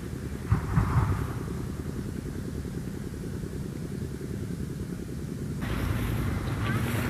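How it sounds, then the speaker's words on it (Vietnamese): Strong wind blows steadily outdoors during kite flying, a loud continuous roar with gusty buffeting on the microphone that swells further near the end. "Gió to lên đấy."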